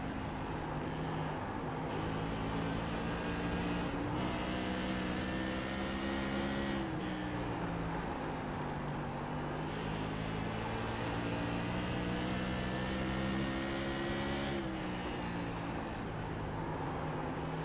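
Several race car engines from a Thunderstruck Tour mod in a racing video game, heard as a steady, continuous drone of harmonic engine tones that rise and fall together through gear changes, loud and unbroken throughout.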